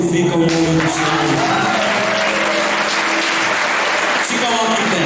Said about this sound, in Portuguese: Aplauda e glorifica o nome do Senhor.